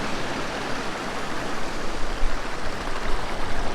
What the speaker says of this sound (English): Here's a little waterfall right here I'm standing on, looking out into the waters of the river.